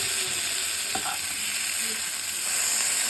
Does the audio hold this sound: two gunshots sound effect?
no